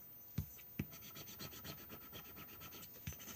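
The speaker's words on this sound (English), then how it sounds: "I do have a tool to use. Let me use the bone folder." A bone folder rubs rub-on transfers onto a paper note card in quiet repeated strokes, with a few firmer taps and faint scratchy friction close by and no speech.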